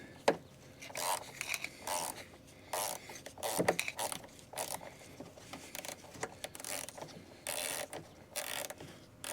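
A ratchet takes a trim bolt off a BMW F30, giving a close, quiet clicking and ratcheting in repeated short strokes with small scrapes between them.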